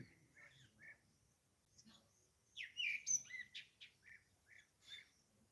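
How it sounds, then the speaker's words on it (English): Birds chirp and sing in short bright bursts, a few clear calls close by with quieter tweets farther off, fairly faint over a soft low background. "Birds are beautifully singing again today."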